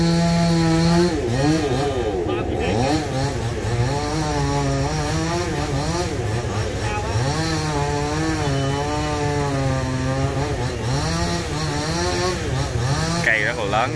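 A chainsaw drones steadily and loudly throughout, its pitch wavering as it bites through a very large tree trunk.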